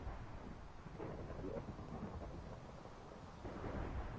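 A video game thunderstorm rumbles quietly as a low, continuous roll of distant thunder with a soft wash of rain and wind, swelling slightly near the end.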